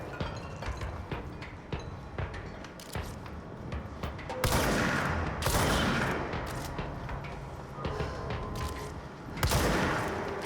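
A gun in the Control video game fires in repeated loud bursts with a punchy kick, some shots close and heavy, others scattered amid a dense, rumbling backdrop of combat noise.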